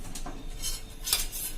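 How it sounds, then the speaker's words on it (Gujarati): A pressure cooker set down on a gas stove for steaming bottle gourd muthiya, giving a few short metallic clinks and knocks, close and fairly loud, with no talk. "કુકર મૂકશું"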